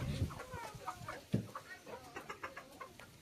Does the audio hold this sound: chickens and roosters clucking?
yes